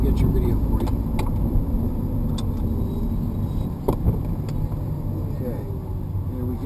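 A Porsche 911 Turbo on the move gives a close, steady engine hum inside the cabin, broken by scattered clicks and small rattles, with muffled voices now and then.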